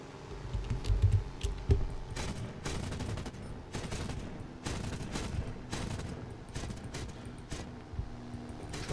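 Aircraft cannons fire in bursts during a War Thunder dogfight against a Sea Fury, a series of sharp rapid volleys over engine drone, moderately loud with brief gaps between bursts.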